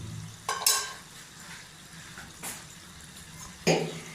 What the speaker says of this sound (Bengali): মশলাটা আগে মাখিয়ে নিই